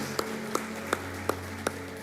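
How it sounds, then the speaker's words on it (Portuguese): Sharp, evenly spaced claps, about six in two seconds, ring out in a church over a steady sustained musical drone, giving a rhythmic congregation-style clapping rather than a loose burst of applause. "Inclusive eu quero dar um aplauso para todas as mulheres dessa igreja."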